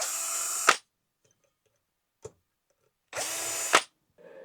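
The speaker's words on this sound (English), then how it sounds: "Then I take out the 3 screws for the LEDs." A power drill backs out the LED screws on an upturned flush-mount ceiling fan in two loud bursts of under a second each, with a brief click between them and a softer start at the end.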